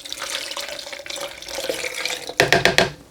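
Water pours into a blender jar over chutney ingredients of red onions and green chillies in a kitchen, a short splashing run that grows briefly louder and choppier near the end.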